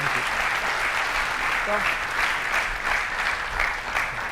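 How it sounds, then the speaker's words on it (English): A conference audience claps in sustained, dense applause after a talk; a voice says a brief word partway through. "Give a round of applause."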